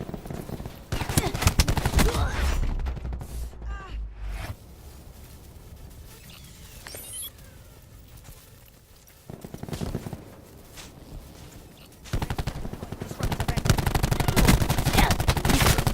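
Gunfire in Call of Duty: Black Ops 4, bursts of rapid shots in loud clusters at the start and end, with quieter gaps of game sounds and people talking in between.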